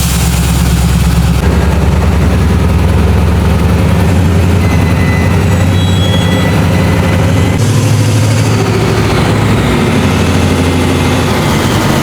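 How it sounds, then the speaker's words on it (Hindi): A ZCU-30 diesel locomotive, just coupled to the Karakoram Express rake, idles with a loud, steady low drone and engine throb that runs unbroken the whole time, with no voices. "तो ZCU 30 की आवाज़ सुन लें"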